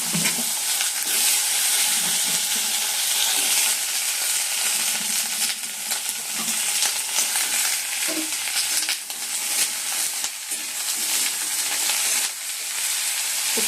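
Cut vegetables including flat beans, eggplant and potato sizzle loudly in hot oil in a wok with five-spice tempering, a steady close crackle broken by stirring scrapes.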